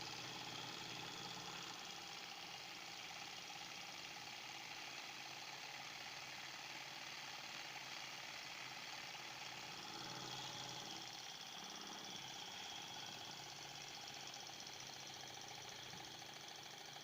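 A collection of small Stirling engines runs together at a low, even level, giving off a soft continuous mechanical whir with a faint rapid ticking and light knocking rhythm, heard alone without talk.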